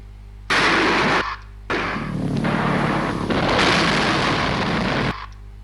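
Video game cannon fire aimed at incoming V1 rockets over a city comes as loud sustained bursts of booming, crackling gunfire, one short volley, a pause, then a longer continuous barrage.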